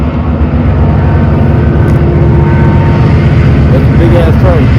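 A big train passes nearby, a loud steady low rumble filling the whole stretch without letup, heard from inside a car.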